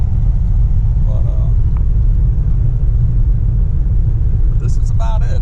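A 1937 Packard 120 cruising at about 30 mph, its engine and road rumble forming a steady, loud low drone throughout, with brief faint clicks and rattles near the end.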